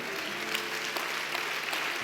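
A church congregation applauds in a brief, steady wash of clapping from a moderately distant crowd, fairly faint, with no speech over it.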